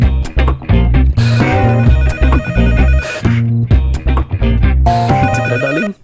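A telephone rings loudly with a bright, layered electronic tone in repeated bursts and brief gaps, close up and filling the scene indoors.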